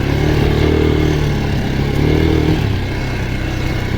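A Geon X-Road Light 250 motorcycle rides off-road through ravines in first gear, its engine a loud, close, steady roar that rises and dips slightly as it labours over rough ground.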